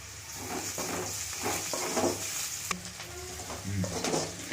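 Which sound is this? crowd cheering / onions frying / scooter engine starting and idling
onions frying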